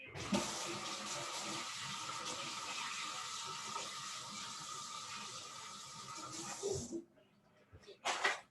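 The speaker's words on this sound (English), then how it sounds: "I'm gonna wash my hands in a second." Running water from a tap splashes steadily while hands are washed after cleaning a fish, a continuous broadband rush for about seven seconds that stops, then a brief final splash.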